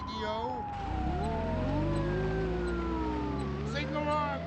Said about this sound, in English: It's a police siren.